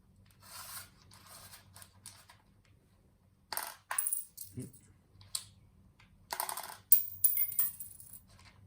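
Coins drop into cups in a homemade tabletop launching game, landing in several separate bursts of sharp, close metallic clinks and rattles with quiet pauses between them.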